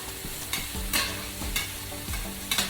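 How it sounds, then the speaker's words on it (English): Eggs and vegetables sizzle steadily in a frying pan for a veggie omelette, with a continuous close hiss and periodic scraping strokes as the mixture is stirred. "now that you can see it's sizzling away"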